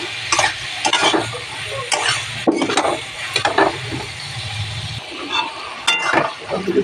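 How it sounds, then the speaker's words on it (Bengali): Ground turmeric and cumin sizzle as they are sautéed in a hot pan, with a spoon scraping and clinking against the metal in irregular stirring strokes, close and steady, with no talk. "এবারে দেবো হলুদ গুঁড়ো, 1 চামচ জিরের গুঁড়ো, আর একটু কষিয়ে নেব।"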